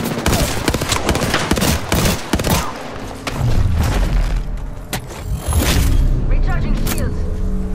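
Heavy gunfire in Apex Legends: rapid bursts and sustained automatic fire with booming impacts and thuds, loud and close, interrupted by short pauses, with player voices calling out over it.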